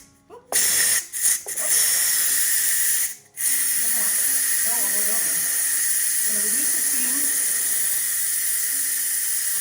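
Steam blasts from a pressure cooker after cooking, a loud continuous hiss with several sharp bursts early, then a steady jet that keeps going while a person talks over it.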